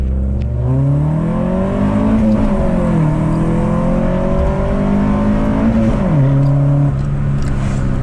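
A naturally aspirated drag race car revs hard through a short acceleration pull, its engine note climbing in repeated rising sweeps with brief drops at gear changes, loud and close throughout with no talking.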